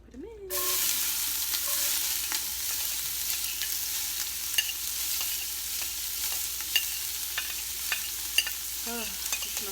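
Chopped onions sizzle steadily in hot oil in a soup pot, a dense continuous frying hiss close by with occasional clinks and stirring scrapes.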